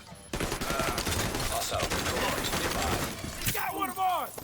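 Rapid gunfire bursts in a video game, loud and dense throughout, with shattering and mechanical clatter and a short chirping effect near the end; a voice seems to run underneath.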